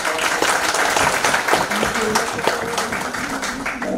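An audience at a global health statistics lecture gives a speaker a round of applause, a steady dense patter lasting about four seconds while a voice talks over it.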